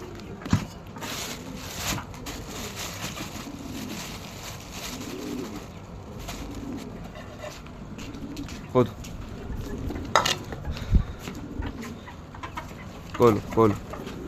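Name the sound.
pigeons cooing while eating their food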